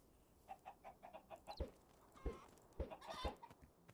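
Chickens in the video game Minecraft cluck softly in a quick run of short rhythmic clucks, followed by a few sharper thuds and squawks, quiet and close with no talking.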